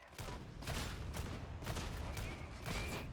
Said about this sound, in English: what is this recoil on my bolt gun?